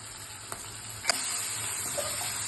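Ginger, garlic and chili paste with tomato, coriander-cumin powder and salt sizzling steadily in a pan, a soft continuous fry with a couple of faint utensil clicks, close and alone.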